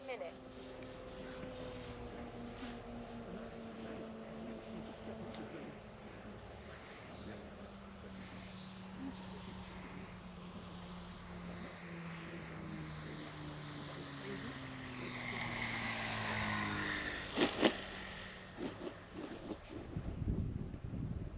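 A radio-controlled Hawker Tempest warbird replica comes in to land on grass, its engine droning and slowly falling in pitch as it descends, with wind noise and a voice talking nearby.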